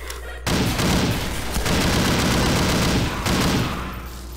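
Automated turrets in the game SMOD Outbreak fire loud, dense, sustained bursts of rapid gunfire, broken by two brief pauses before the shooting resumes.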